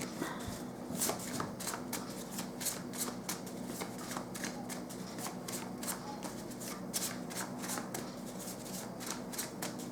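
Tarot cards shuffled by hand in a steady rapid riffle, a continuous close flutter of crisp card slaps lasting throughout with no talk.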